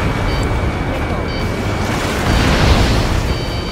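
An AA gun blowing up in Ace Combat 7, a loud, sustained roaring blast with rumbling debris that swells near the end, over a steady background drone.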